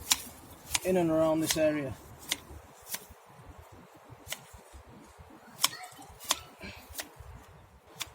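Cover crops being chopped down by hand in a garden bed near onions: a run of crisp, separate chopping strikes spread irregularly through the clip, with a person speaking briefly near the start.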